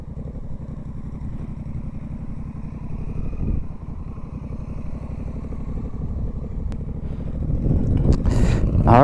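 Motorcycles ride tight turns around a 40-foot circle during a group riding skills session, a steady low engine drone close by that swells and grows louder near the end, with no talk.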